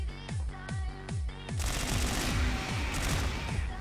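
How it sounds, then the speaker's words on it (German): A minigun in the video game CrossFire fires sustained bursts: several short stuttering volleys give way to a long, dense, continuous stream of rapid gunfire, loud and close with no talking. "Minigun ist hier nicht besonders gut."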